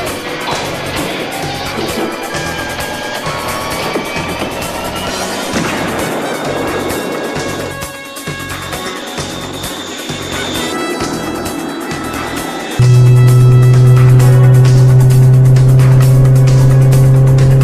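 KITT, the talking car from Knight Rider, roars and accelerates with a steady engine drone, then its turbo boost cuts in as a sudden loud sustained whine that holds to the end.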